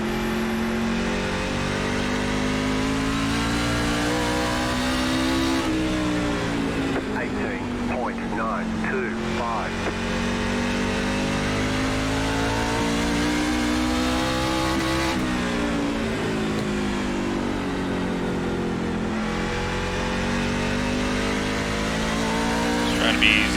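A race truck engine on full throttle at North Wilkesboro in iRacing, a loud, continuous droning roar with rising and falling pitch through the laps and brief dips at gear changes, with a voice talking over it.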